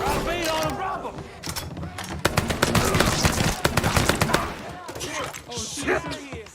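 Rapid bursts of automatic gunfire and single shots crackle in a Mafia 3 shootout, loud and dense, mixed with shouting voices in the game.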